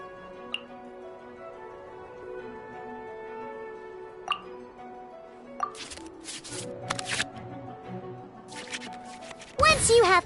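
Playing cards shuffle back into the draw pile in the Genshin Impact card game on PS5, a run of soft flicking riffles among chimes and game tones, ending in a louder burst of effects.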